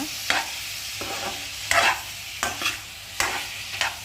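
A spoon stirs fried chicken pieces with masala for biryani in a hot pan, giving several sharp scraping strokes over a soft, steady sizzle at close range.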